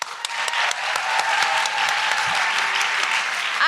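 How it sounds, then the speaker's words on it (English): A podcast audience claps enthusiastically for guests, a dense burst of applause that holds steady for several seconds, loud and close with no talking over it. "But for now, a big round of applause for Dema Aktaa"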